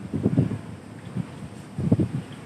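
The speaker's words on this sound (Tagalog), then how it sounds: "Ang lakas ng hangin." Strong wind buffeting outdoors, low rumbling gusts hitting the microphone in uneven bursts.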